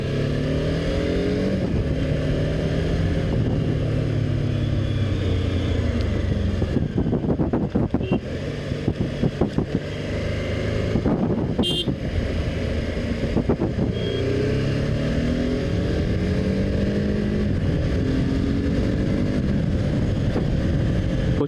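A BMW F450GS motorcycle rides along with a steady engine drone and wind rush, rising and falling in pitch through gear changes and acceleration, loud and continuous with no talking.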